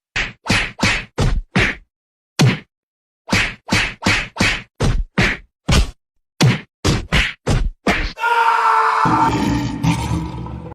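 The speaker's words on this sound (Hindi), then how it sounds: "घूंसे पर घूंसा" A rapid series of sharp whacks and thwacks from punches and kicks in a fight against bandits, loud and close in quick uneven bursts with short gaps, ending in a roaring crash of noise.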